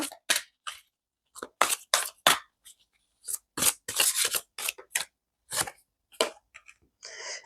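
Angel tarot cards are handled and drawn in a series of close, crisp, papery slides and flicks, irregular in rhythm and separated by short silences, with no talking.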